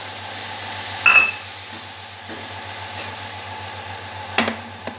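Potatoes and spices fry in a pan for a rohu fish curry, a steady close sizzle carrying a few spoon knocks and scrapes, with no talk.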